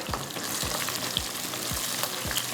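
Onions browning in oil in a frying pan, a steady sizzle broken by a regular series of soft scrapes as they are stirred, close and alone without talk.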